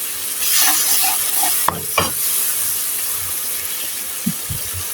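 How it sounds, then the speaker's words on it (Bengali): Ground spices stir-fried with onions and a splash of water in a pan, a close, bright hiss and sizzle with a couple of sharp spatula scrapes and knocks against the pan, no talking. "এখন মশলাকে আমি ভালো করে পেঁয়াজের সঙ্গে কষিয়ে নেব।"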